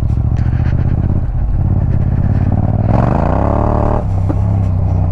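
A Yamaha MT-07 motorcycle converted for off-road riding runs loud and close throughout, revving up partway through with a rising whine before settling back.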